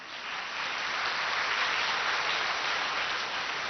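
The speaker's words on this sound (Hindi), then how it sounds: "भले ताली बजाओ।" An audience claps together in steady, dense applause at a spiritual talk, a sustained wash of hand claps that swells in and holds for several seconds with no talk over it.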